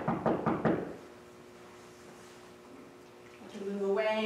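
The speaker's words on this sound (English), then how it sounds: "and I can knock." A person knocks several times in quick succession on a hard surface nearby during dog training, with a short pause and then a voice speaking over faint room noise.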